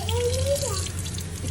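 A restaurant sink tap runs water in a steady close-up stream, with a low constant hum underneath throughout.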